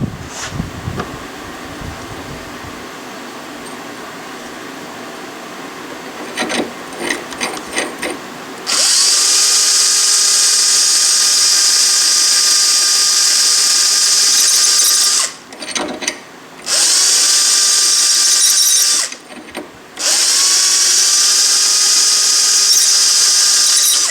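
A fuel pump part ground with a power tool, a loud, steady high-pitched whine that holds for long stretches and drops out briefly twice, after some lighter mechanical clicking at the start.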